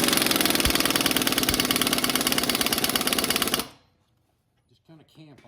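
An Ingersoll impact wrench runs at full power on a Briggs engine, a loud, steady, rapid hammering rattle for about three and a half seconds that stops abruptly, followed by near silence and a brief voice.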